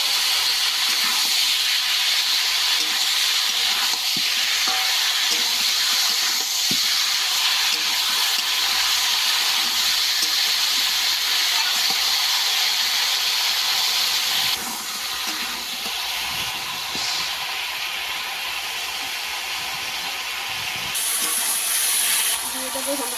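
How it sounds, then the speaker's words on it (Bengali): Cut eggplant hits a hot pan, releasing a loud, sustained hissing sizzle that holds steady for a long stretch before dropping slightly in level. "দিয়ে দেবো কেটে রাখা বেগুনটা"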